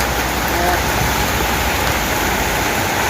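Steady rain falls during a drive in the middle of the road, a dense, even hiss of drops filling the scene continuously at close range with no breaks.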